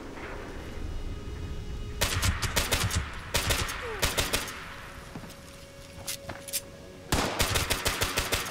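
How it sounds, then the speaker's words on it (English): Automatic weapon fire in the video game Fallout 76, with dense rapid bursts of shots separated by short pauses and a thin background tone, loud and close, with no talking. "Stop shooting when no one's in your fucking sights"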